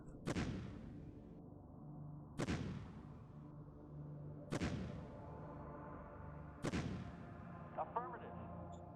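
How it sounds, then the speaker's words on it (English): Artillery strike in the strategy video game Shadow Empire: four heavy booming blasts spaced about two seconds apart, each with a rumbling decay, followed by faint crackling, moderately loud in game audio. "I suppose I could just drop a bit of artillery strike there as well"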